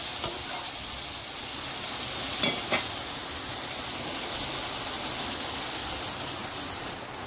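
Chicken sautéing with spice masala in a pan makes a constant broadband sizzle, with a few soft stirring knocks scattered through it and no voices.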